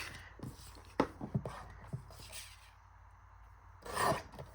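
Scissors trimming paper scraps down to size for a handmade library pocket, with a few quiet snips and rustles followed by one louder paper crinkle near the end.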